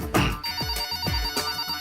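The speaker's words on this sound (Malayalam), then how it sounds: "ഫോൺ എടുക്ക്." A telephone rings in an office with a bright, tonal electronic ring that repeats in a steady rhythm, loud and close, and no one speaks over it.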